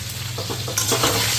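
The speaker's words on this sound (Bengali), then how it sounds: "এই যে দেখো মাথাগুলি ভাজা নিতেছি," Fish heads fry in hot oil in a home kitchen, giving a dense, close, continuous sizzle with a few soft scraping stirs partway through and no talking.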